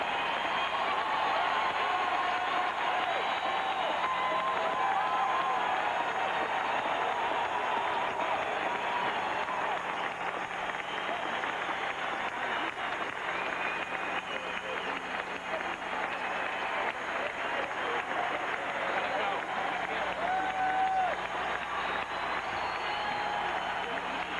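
A large crowd at the Forum in Los Angeles cheers and applauds for Magic Johnson at his retirement ceremony, a dense, steady roar of clapping and voices that holds loudly throughout without letting up.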